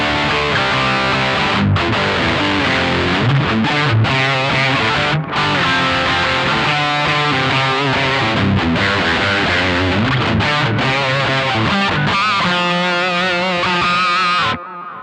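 Distorted electric guitar through a Triamp Mark 3 amp, with the SM57 and I5 cone-edge impulse responses blended, plays dense, loud chugging riffs with short breaks for about fifteen seconds before stopping abruptly.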